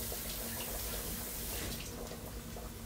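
Tap water runs steadily into a kitchen sink while a cut onion is rinsed underneath, a continuous close splashing hiss that shifts slightly as the onion moves through the stream.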